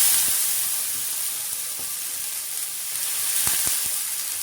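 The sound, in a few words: water sprinkled on hot griddle sizzling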